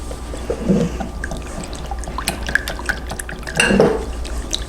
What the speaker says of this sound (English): Now I'm just going to whisk this together